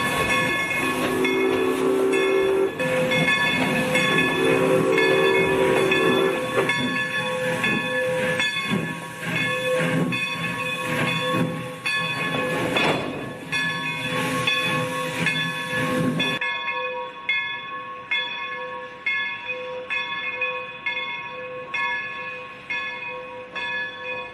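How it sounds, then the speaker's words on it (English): A steam locomotive runs along the tracks with a loud, continuous rumble and sustained whistle-like tones. The sound drops abruptly to a quieter, steadier ride partway through, and no one speaks. "We're taking you on board a magnificent steam locomotive."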